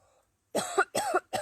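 A person coughs three times in quick succession, close and fairly loud, with short silent gaps between the bursts in an otherwise quiet space.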